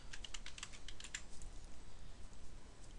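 Typing on a computer keyboard while editing an Excel spreadsheet, a quick run of light clicking keystrokes in the first second or so, then fading into quiet room noise.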